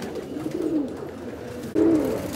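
Pigeons on show at a bird exhibition coo in soft low throaty calls, one coo early and another after a short break, close by over a faint background murmur.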